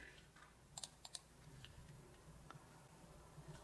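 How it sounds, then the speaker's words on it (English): Keys are tapped on a computer keyboard to enter student login details: a quick cluster of four sharp clicks, then a few scattered faint taps in a quiet room. "Type in the first name of the student typed exactly as it appears in CalPads"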